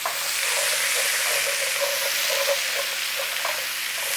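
Onions frying in an Instant Pot after browned beef, a steady close sizzle with faint crackles and a brief stir near the end.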